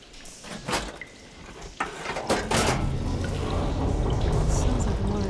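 Water flow switching inside machinery in Horizon Forbidden West, with a few clanking mechanical thumps followed by a rising, steady rush of pouring water that keeps building and then holds, loud and close.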